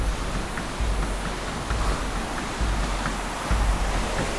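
At El Arroyazo, a natural bathing pool near Jarabacoa, stream water flows in a steady, full, noisy rush. Low surging swells rise and fall every second or so, with no voices.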